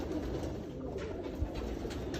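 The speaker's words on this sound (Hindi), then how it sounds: "ये बैठे हुए हैं बड़े कबूतर बड़ी कसीर तादाद में" A large flock of pigeons coos softly in a low, murmuring drone, fairly faint against a steady outdoor background.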